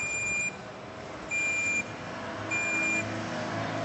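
A vibrating torque wrench set to 90 beeps in three steady, evenly spaced tones, each about half a second long, over a constant hum of background noise.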